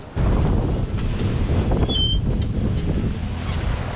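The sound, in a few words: ocean wind and waves on a sailboat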